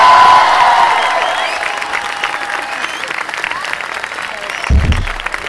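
Applause from an audience at an evening church vigil, a broad wash of clapping that starts loud and gradually thins out over several seconds, with a voice and a brief low thump near the end.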